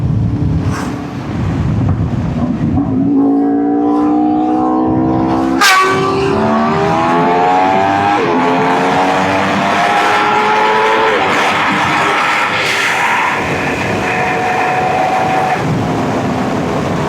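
Kawasaki H2 motorcycle ripping past at high speed in a flyby, its engine note climbing in pitch as it approaches and then dropping away, loud and close with steady wind rush over the microphone.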